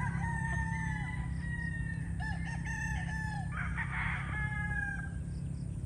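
Gamefowl stags at the Kasmina gamefarm crow in several overlapping calls, some near and some farther off, over a steady low rumble of background noise.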